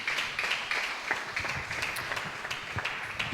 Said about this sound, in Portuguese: Aplauda Jesus por esse testemunho.